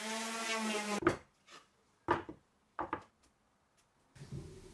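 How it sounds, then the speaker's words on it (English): A few short, separate scraping rasps of P80 sandpaper against the rough edges of fence picket wood, close by, with pauses between strokes and no talking. "I'm using P80 sanding paper to sand off rough edges."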